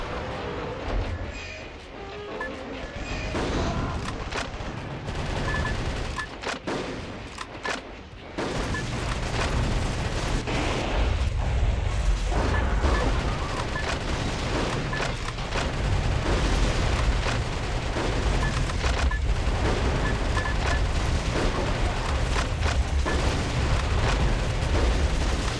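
Steady loud barrage of shotgun blasts and explosions in the mech action game Metal Wolf Chaos, dense booming bursts running continuously with a dense low rumble throughout.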